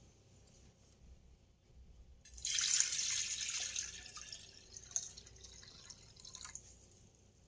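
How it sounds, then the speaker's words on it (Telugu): Water poured from a tap or vessel into a small pot at a home puja setup, a brief quiet trickle that swells into a steady splashing stream, then tapers to a softer run with faint drips. "చక్కగా వాటర్ పోసుకుందాం."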